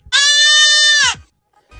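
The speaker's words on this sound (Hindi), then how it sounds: "कितनी क्यूट बकरियां है यार।" A goat lets out one loud, sustained bleat about a second long, close and clear, followed by a short pause and the faint start of another sound.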